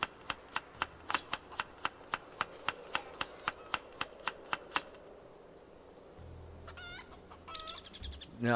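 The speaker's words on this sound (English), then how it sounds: "Oh, there's two roosters in here." Two roosters in a pen in a video game, heard behind a fast run of sharp, evenly spaced clicks. Brief clucking calls then rise over a low hum toward the end.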